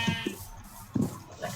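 Sheep in Minecraft bleat in several short, nasal calls spaced across a brief moment, clear and close with no talking over them.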